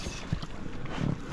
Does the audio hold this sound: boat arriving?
yes